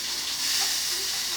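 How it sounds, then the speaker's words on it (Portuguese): Rice frying in a pan gives a steady, soft sizzling hiss with no talk over it. "Agora vamos fritar o nosso arroz."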